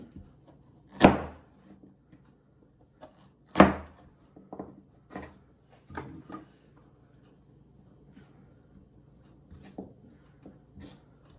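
A knife chops carrots on a cutting board during food prep, in sparse, irregular strokes. Two loud, sharp chops stand out among several softer taps and long quiet gaps.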